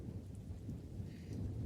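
Steady rain pours down outdoors in London, a dense, constant hiss of drops with a low rumbling undertone and no one speaking.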